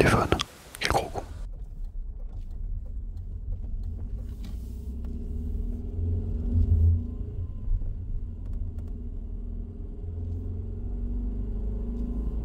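A new modern car's engine idles, a low steady rumble heard from inside the cabin, after a brief loud knock at the start, with soft whispering over it.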